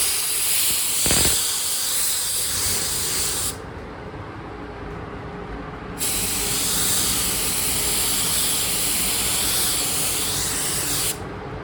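Spray can laying primer on 1986 Suzuki GSX-R750 restoration parts: a steady, close hiss in long bursts, pausing briefly near the middle before resuming, with no talk.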